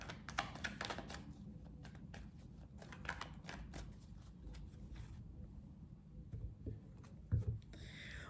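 Tarot cards being cut and shuffled, giving soft papery riffles and light taps, quiet and close, over a steady low background hum.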